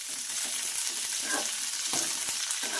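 Green chilies fry in hot oil with a dense, continuous sizzle and crackle, steady and close, with occasional light stirring noises and no voices.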